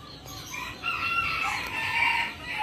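A sick chicken with avian malaria, too weak to stand, vocalizes faintly in the background, with a thin sustained call over low ambient noise, close to a crow, with no talk.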